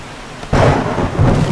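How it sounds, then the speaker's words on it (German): A thunderstorm in the 7 Days to Die video game breaks into a sudden loud roll of thunder with heavy rain, rumbling and hissing steadily after a quieter start. "Alter, dieses Gewitter, ne?"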